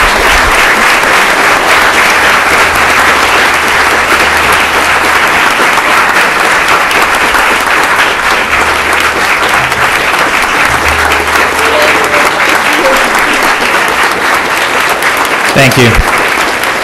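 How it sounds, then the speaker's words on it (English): A council meeting audience gives a long, loud, sustained round of applause to honor a commissioner, the dense clapping continuing without pause while a voice briefly speaks beneath it near the end. "please give her a round of applause, because she has done an outstanding job for us."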